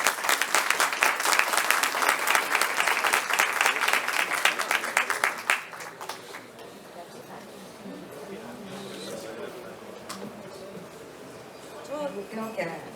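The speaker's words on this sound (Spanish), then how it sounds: "Un aplauso, por favor." Applause from a conference audience greets the moderator at an event on AI and democracy, loud and dense for about six seconds, then fading as a voice begins speaking.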